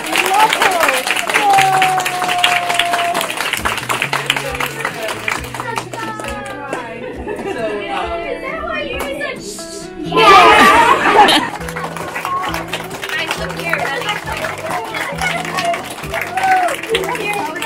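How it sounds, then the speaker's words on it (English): A school audience applauds a Teacher of the Year award, with claps, cheers and children's chatter, plus a brief louder burst of clapping and cheering midway, while adults speak over the crowd. "So give her a round of applause."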